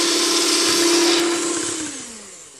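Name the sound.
electric mixer beating chocolate muffin batter with sugar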